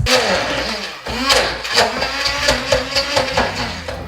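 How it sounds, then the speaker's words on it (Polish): A blender whirs while blending soaked dates in a tall container, the motor loud and close with a rhythmic, pulsing churn as the thick mass is worked. "daktyle przesypuję do takiego wysokiego naczynia, ponieważ będziemy to teraz wszystko ze sobą dobrze blendować"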